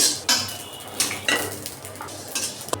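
Dried chillies and panch phoron spices frying in a pan for pickle, heard as clinks and scrapes of a utensil against the pan, with stirring and a faint sizzle and no talking.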